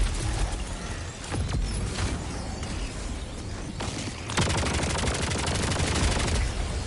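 Sentry turrets in Helldivers 2 firing bursts of rapid gunfire with mechanical clatter, a dense continuous stream of shots that grows heavier and more steady in the second half.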